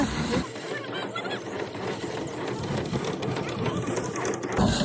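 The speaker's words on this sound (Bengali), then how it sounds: "আমাদের গ্রামের চাষিরা দেখো কত কষ্ট করে পা দিয়ে চাপ দিয়ে ধান ঝাড়ছে" A foot-pedal paddy thresher whirs as village farmers thresh rice with their feet, a continuous rattling drum sound that stays close and fairly loud for the whole stretch.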